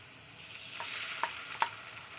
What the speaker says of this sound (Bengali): মিক্সার গ্রাইন্ডারে যে মশলাটা পেস্ট করেছি সেই মশলাটা আমি দিয়ে দিচ্ছি